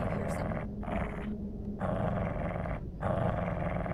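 A dog growls in the horror game Stay Out of the House, giving a low, rough, sustained snarl in several close, loud bursts separated by brief pauses.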